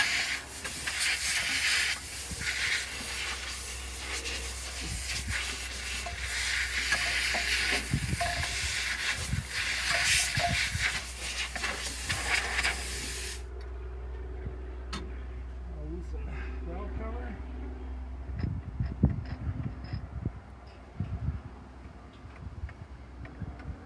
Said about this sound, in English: I'll lose a little oxygen to blow some of that dirt out of there.